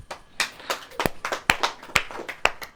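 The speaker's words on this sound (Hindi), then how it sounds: "ओहो, ताली बजाओ।" A congregation at a Christian church service claps its hands in a loose, uneven burst of sharp, fairly close claps over a couple of seconds, with no talking.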